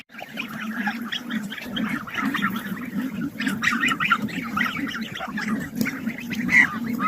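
A domestic goose honks repeatedly in close, uneven bursts. Other fowl are in the background and faint noises surround the calls; no one speaks.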